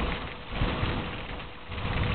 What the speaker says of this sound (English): Ooh, here comes some more rain.